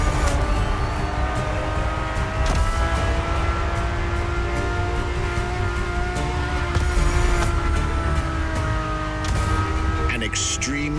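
Steady, loud Ferrari race car engine in The Crew Motorfest, heard from the cockpit, a sustained high-revving drone with tonal harmonics and a shift near the end, while a narrator talks over it.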